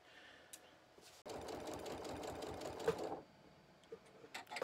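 A sewing machine stitches binding onto a quilted table runner, starting abruptly and running steadily for about two seconds before stopping, with faint handling sounds around it.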